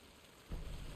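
Rain in the video game Alan Wake II, a soft steady patter that swells into a denser, louder downpour partway through, with no voices over it.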